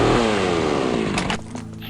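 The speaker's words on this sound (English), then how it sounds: "apparently I also have a chainsaw based on that sound" A chainsaw in the video game Half-Quake Amen revs loud and close with a harsh buzzing drone whose pitch slides downward, then cuts out abruptly near the end, leaving a low hum.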